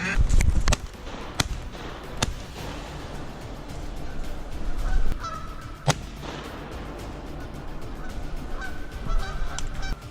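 Geese honking in repeated calls, some close and loud, others farther off, with a few sharp knocks and faint talk.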